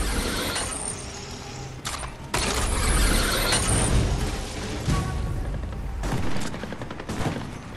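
Gunfire in Fortnite Chapter 4 Season 3 rattles as dense bursts of rapid shots and mechanical clatter, fairly loud and continuous with brief pauses, without talk over it.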